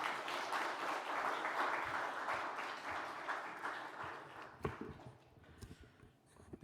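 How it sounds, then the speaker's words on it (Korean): A church congregation at a special dawn prayer service claps in welcome as the pastor comes out, dense applause that fills the room, then thins into scattered claps and fades near the end. "우리 목사님 나오실 때 우리 환영의 박수 한번 하겠습니다"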